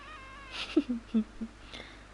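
A baby kitten gives a few soft, short mews in quick succession, faint and close, against a quiet background.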